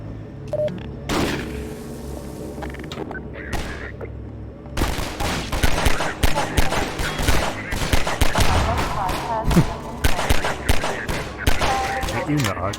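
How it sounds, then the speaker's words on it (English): Gunfire from Half-Life 2: rapid bursts of automatic weapon shots and sharp single blasts in dense, loud volleys, mixed with game effects and a voice talking quietly underneath. "Even the audio just for the guns just sound tremendous."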